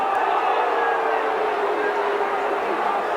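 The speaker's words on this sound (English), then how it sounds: "The crowd incensed a little bit" A rugby league crowd at a Wigan versus Bradford match makes a broad, steady roar of massed voices, continuous and fairly loud with no pauses.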